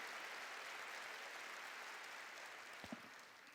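A congregation claps steadily during a worship service at a Korean church. The dense, sustained applause fills the room, and near the end a couple of brief low thumps cut through it.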